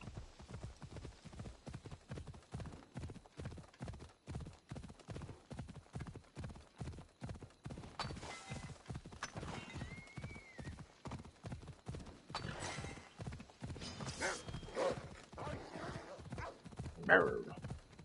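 A horse gallops in the video game Assassin's Creed Odyssey with rapid, steady hoofbeats close by, joined by a short whinny near the end.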